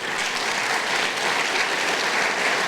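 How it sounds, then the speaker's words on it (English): Sustained applause fills a high school scholarship night ceremony as the audience thanks donors, a steady dense wash of clapping close and loud throughout. "I would like to take one more round of applause to thank all the donors"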